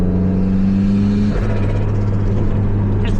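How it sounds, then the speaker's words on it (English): A turbocharged Toyota MR2 engine revs as it accelerates, a steady close rumbling drone with a tone shift partway through and faint fluttering hiss near the end, no talk. "Just like tap the throttle, and the flutter is just like incredible."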